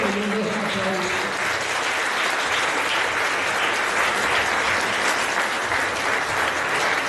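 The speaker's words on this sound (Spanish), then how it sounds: "Con fuerte y un aplauso." A church congregation at a Spanish-language worship service applauds, a dense, steady wash of many hands clapping that fills the whole stretch at even loudness, with faint voices and some sustained tones mixed in near the start.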